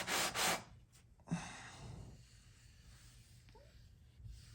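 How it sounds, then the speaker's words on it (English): Sandpaper of 180 grit rubbing along the glued joint of an acoustic guitar's wooden top, with two loud close strokes at the start followed by quieter, softer scuffing passes. "180 grit sandpaper, if I didn't already say so."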